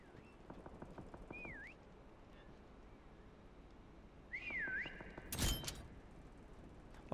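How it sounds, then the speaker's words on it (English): A player's whistle in a prop hunt video game sounds as a warbling, rising-and-falling tune, twice with a long gap, alongside rapid clicking taps and a sharp loud bang near the end. "Okay, we just whistled."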